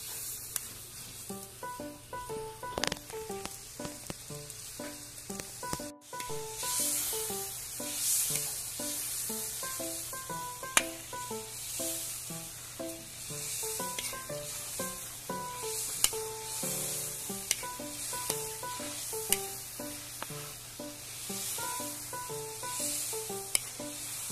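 Soy sauce and oil sizzle in a wok while being stirred and scraped for a sticky sweet, with a steady hiss and occasional utensil taps over a tonal background.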